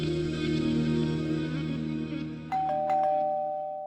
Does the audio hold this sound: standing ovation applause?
no